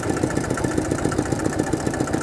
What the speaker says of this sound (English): got that old engine sound like a sewing machine